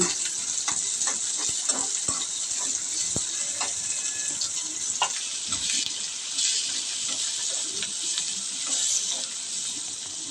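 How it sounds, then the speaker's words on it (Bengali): Chopped onion frying in oil in a wok gives a bright, continuous sizzle with scattered crackles and pops, steady and close, with no talk. "পেঁয়াজটাকে এবার তেলের সাথে একটু ভেজে নেব সাথে দিয়ে দেব স্বাদ মতো লবণ"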